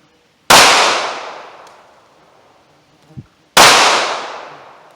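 Two sharp, loud pistol shots several seconds apart from a Ruger LCP firing Remington UMC 95 grain .380 ACP FMJ rounds outdoors, each with a long fading ring, and a small clack between them.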